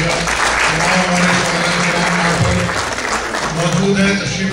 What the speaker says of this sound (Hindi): मैं चाहता हूँ तालियों में आप इनका इस्तकबाल कीजिएगा